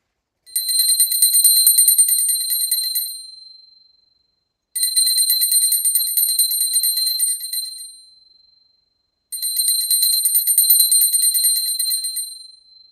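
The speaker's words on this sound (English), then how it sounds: "Now I take a bell to offer the element of sound." A small hand bell rung during a planetary pooja: three bright, sustained ringing bursts, each lasting a few seconds and fading out before the next, with near-silence between them.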